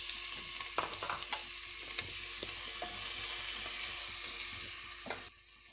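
Spices, bay leaf, red chili, asafoetida, finely chopped ginger, garlic and green chili fry in hot oil with a soft, steady sizzle. Scattered taps of a spoon stirring the pan sound through it before the sound cuts off.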